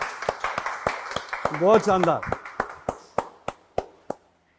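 Sharp, distinct hand claps ring out at a steady pace at a wrestler's dhaba and wrestling academy, slowing and thinning toward the end, while a voice speaks briefly in the middle.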